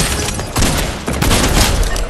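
Rapid hunting rifle gunfire in the Fortnite video game, several loud sharp shots cracking in quick bursts with booming echoes, no talking.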